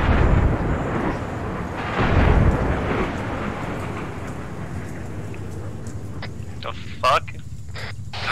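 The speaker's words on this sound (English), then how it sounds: "The plane hit, breaking the sound barrier." A sonic boom from an F-22 breaking the sound barrier in the military game ArmA3, heard as a deep rolling rumble that swells and fades, followed by a few faint sharp clicks.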